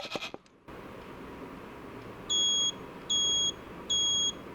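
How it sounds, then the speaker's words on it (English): Obstacle alarm on a patient assistance robot, sounding three evenly spaced, clear electronic beeps, each about half a second long, over a low steady background hum after a brief rustle at the start. "an alarm will indicate the presence of obstacle in the robot path"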